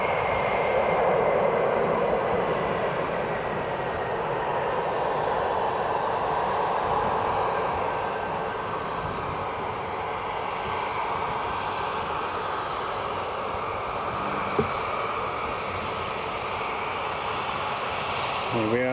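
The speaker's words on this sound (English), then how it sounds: "Here we have the WestJet Max just taxiing along." A WestJet Boeing 737 Max airliner taxis at Edinburgh Airport, its engines giving a steady, distant whine and roar that holds level, with a voice speaking faintly over it.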